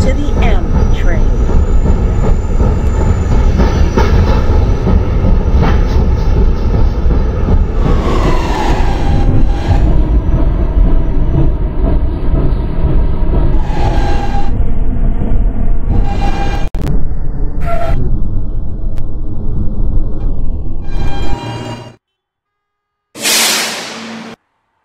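An R160B Siemens subway train in a Roblox game roars loudly and continuously for over twenty seconds, with a rumbling, rattling run and shifting tones, before cutting to near silence and a final short burst.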